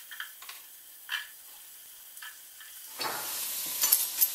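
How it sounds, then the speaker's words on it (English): A few soft utensil taps, then vegetables hit a hot pan and break into a loud, continuous sizzle close by as they sauté for vegan chicken noodle soup. "You know it's hot enough when it sizzles."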